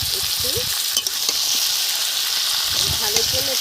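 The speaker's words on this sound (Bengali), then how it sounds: "এইভাবে এখন আমি কিছুটা ভেজে নেব 5-7 মিনিট।" Fish curry with salt, tomato and turmeric frying in a pan, giving a steady loud sizzle throughout with occasional stirring scrapes, while a voice talks faintly underneath.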